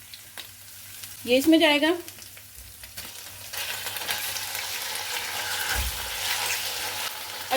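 Half a kilo of small boneless chicken cubes goes into a hot pan and fries with a loud, steady sizzle that swells and holds close by. A brief spoken remark comes first, and there is a thud as the pieces drop in.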